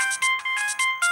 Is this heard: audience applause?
no